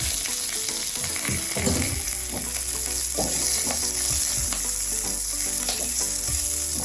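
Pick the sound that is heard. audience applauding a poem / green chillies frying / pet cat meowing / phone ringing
green chillies frying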